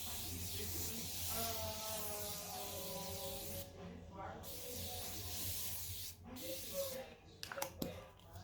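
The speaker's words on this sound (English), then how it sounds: "we're going to come back again with the Morphe Continuous Setting Spray." Morphe Continuous Setting Spray misted onto a face, a steady close hiss over the first few seconds with a fainter burst later, and a voice and tonal sounds faintly running underneath.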